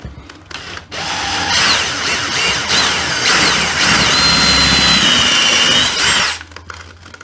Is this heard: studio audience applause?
no